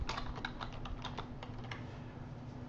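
Rapid keystrokes tap on a computer keyboard while a name is entered into scheduling software, a close, quiet run of irregular clicks over faint steady hum.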